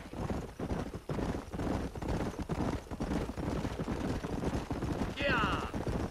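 Horses ridden in the Red Dead Redemption video game, a continuous clip-clop of hooves at a steady trot with a brief whinny near the end, under ongoing game dialogue.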